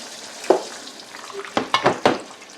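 Peruvian cancha corn kernels crackle and sizzle in a hot pan, with a soft pop at first followed by a quick cluster of three or four sharper pops close up.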